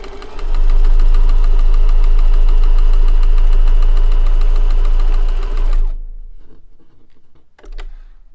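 A sewing machine stitches a row along the short cuff edge of a Christmas stocking, loud and close with a rapid, steady mechanical chatter for about five seconds. It then slows and stops, and a few quieter handling noises follow.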